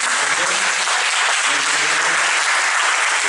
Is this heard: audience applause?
yes